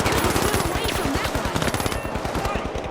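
Rapid automatic gunfire rattles continuously in the video game The Finals, a dense, loud stream of shots with no pause across the clip.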